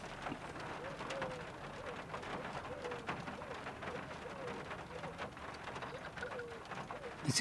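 Wood pigeon cooing repeatedly in soft rhythmic phrases at moderate distance, set against steady rain pattering on a car camper roof in a calm village, with no talking.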